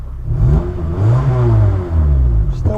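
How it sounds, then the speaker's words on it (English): A Honda Element with a P2646 fault code revs loudly up close, its engine swelling and easing in about three rising-and-falling pulls, with a brief clatter near the end and no talk. "Still revving good."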